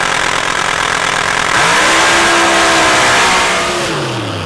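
A front-engine drag racing car makes its run at a drag racing championship event in Missouri. Its engine roars loudly, its pitch climbing as it accelerates, then the sound fades slightly as the car pulls away.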